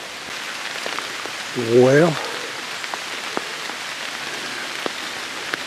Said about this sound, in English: Got some rain on the pond.